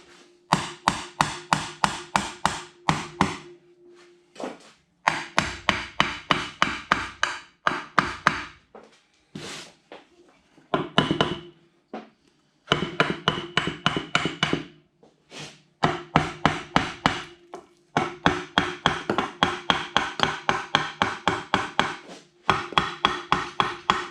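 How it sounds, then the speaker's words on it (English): Rapid bursts of hammer taps on a hard plastic part, sharp and close, coming in quick runs separated by short pauses. "so I'll just take my hammer, this plastic thing, give it a few taps,"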